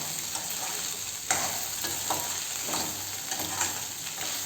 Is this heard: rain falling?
no